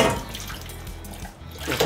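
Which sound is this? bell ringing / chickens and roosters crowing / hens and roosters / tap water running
tap water running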